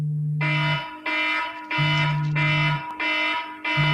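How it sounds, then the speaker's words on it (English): An electronic alarm going off, loud and close, pulsing in a repeating pattern of harsh buzzing tones alternating with a lower steady beep, about three cycles with no voices. "Oh, they had to set the alarm off on that thing."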